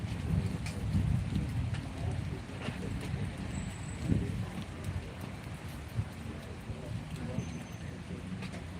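Steady rain falls in Hiroshima as a faint, continuous wash of hiss and patter with a few soft thuds. No speech can be heard over it.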